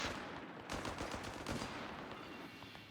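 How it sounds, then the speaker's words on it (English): Video game battle in Company of Heroes 3, 4v4 match: mortar and machine gun fire rattle in dense, continuous bursts, loud and busy throughout. "Relatively early mortar for DaMayzr."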